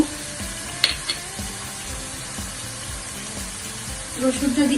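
Chicken pieces frying with spices in a pan give a steady, close sizzle with scattered stirring clatter and a few louder scrapes, and a sharper burst of sizzling near the end.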